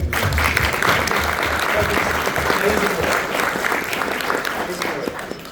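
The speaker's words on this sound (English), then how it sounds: "So, clap for Doug." A room full of people applauding steadily for several seconds, the clapping dense and even before tapering slightly at the end.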